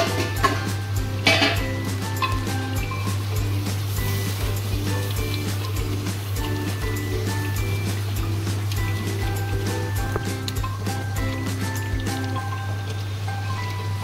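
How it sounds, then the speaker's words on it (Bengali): Masala for a restaurant-style mutton handi is stirred and fried in a pan with a little sugar, giving steady scraping and clinking of a spoon against metal over a constant low hum. "এবারে মশলাটা এইভাবে কষিয়ে নেব।"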